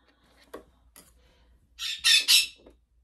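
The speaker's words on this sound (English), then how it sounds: "One bird is yelling at the other bird to come in this room" Pet birds indoors give a few short squawks, then a loud burst of three harsh, close calls, with quiet gaps between them in a room where machine embroidery is underway.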